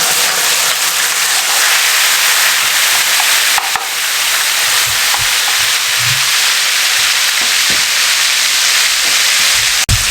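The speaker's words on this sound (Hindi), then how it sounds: "लहसुन अदरक और सब्ज़ मिर्चों को 1 मिनट हमने इसकी तरह भूना।" Garlic, ginger and green chili paste sizzles and crackles in hot oil in a pan, a steady loud frying hiss with scattered pops and a sharp knock near the end.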